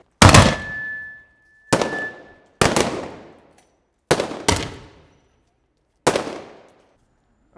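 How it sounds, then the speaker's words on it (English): Rifle and machine gun fire at a battle re-enactment in Enniscorthy, Ireland: six sharp, loud outdoor blasts spaced irregularly, each trailing off in a long echoing decay, with one short ringing tone after the first. "the sound of rifle and machine gun fire started in Enniscorthy again"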